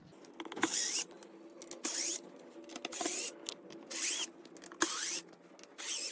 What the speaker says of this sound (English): We're gonna start by removing all the screws that are screwed down into our canvas.